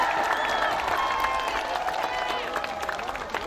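A crowd of political supporters applauds and cheers at a presidential candidacy declaration in Korea, a dense continuous wash of clapping with raised voices and whistles, fairly close and loud.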